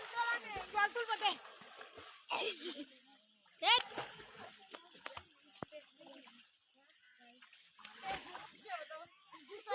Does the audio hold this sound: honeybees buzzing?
no